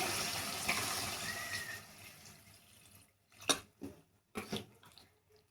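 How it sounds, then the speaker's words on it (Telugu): Water is poured into a pot of mutton for a Rayalaseema mutton curry, a steady pour followed by a few short splashing gushes close by. "ఇప్పుడైతే మనం తగినంత మటన్ ఉడికేకి తగినంత నీళ్ళు అయితే వేసుకుందామండి"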